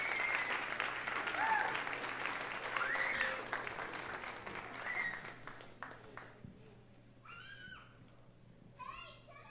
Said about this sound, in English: give them a round of applause for representing and showing up